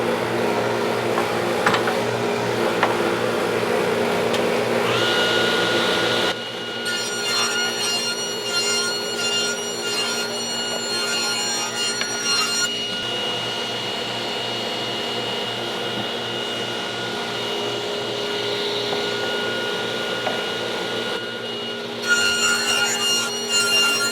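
Hand saw cutting the bad edge off a Home Depot pine board, a steady rasping stroke that runs continuously at close range with a brief pause near the middle.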